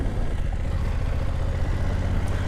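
A BMW F900 GS motorcycle's crossplane twin idles with a steady low rumble and faint clatter, continuous and fairly close throughout, with no talking.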